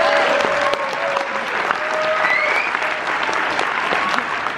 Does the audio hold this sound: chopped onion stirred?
no